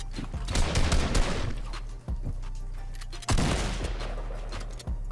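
A drum gun in Fortnite fires long, rapid automatic bursts, loud and close, with two brief pauses between sustained volleys and no talking over it.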